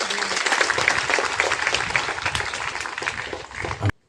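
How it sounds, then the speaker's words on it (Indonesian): Students at a Monday flag ceremony at a state senior high school applaud together, a dense, steady clapping from a crowd that runs for several seconds and then stops abruptly. "Tepuk tangan untuk kalian semuanya."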